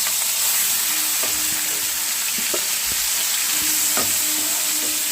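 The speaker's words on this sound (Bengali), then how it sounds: "পেঁয়াজটাকে খুব ভালো করে লাল করে ভাজা করে নেবে।" Onion paste fries in oil for a pomfret fish curry, giving a steady loud sizzle close by, with a spatula scraping and clacking against the pan every second or so.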